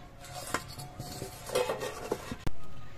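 A pot holding fish coated in salt and turmeric is handled and covered with its lid, producing scattered light clinks and metallic taps, followed by a sharp clank of metal on metal near the end.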